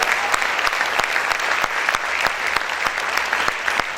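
A church congregation claps loudly and steadily in unison, sharp rhythmic beats standing out over dense sustained applause.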